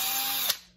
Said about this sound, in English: It's the Galax Pro handheld drill driver